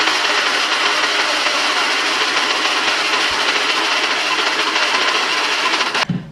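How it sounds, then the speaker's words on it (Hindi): A loud, steady whirring grind from a mixer grinder grinding spices, running continuously, then cutting off abruptly near the end. "इसे फटाफट पीसते हैं"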